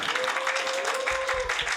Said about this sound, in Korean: 우리 나올 때 뜨거운 박수로